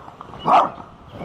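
Single short puppy bark or yip near the middle, fairly close and clear against a quiet room.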